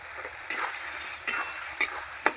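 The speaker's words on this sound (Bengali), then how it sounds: "এবার আর একটু ভালো করে কষিয়ে নেব" Spice masala with salt frying in a pan for cabbage with katla fish head, a continuous soft sizzle broken by four sharp spatula clacks and scrapes at a slow, uneven rhythm, no voices.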